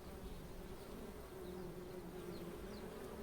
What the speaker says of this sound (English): it looks like I'm right next to a nest, or a hive I should say